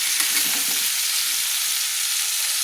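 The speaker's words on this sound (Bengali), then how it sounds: "তো একটু হালকা হালকা করে লাল লাল করে ভেজে নেব।" Winter vegetables with moong dal frying in a pan while stirred, a loud, steady hiss of sizzling oil with brief scraping strokes near the start, close and without talk.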